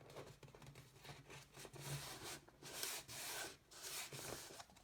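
Tape is pulled and pressed onto a folded paper cone, making soft, close rubbing and crinkling sounds in short bursts with no talking.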